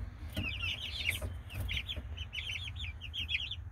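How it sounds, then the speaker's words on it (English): Chickens under a red heat lamp cluck in short, repeated bursts of soft calls, close and moderately quiet over a low background hum, with no talking. "hi chickens"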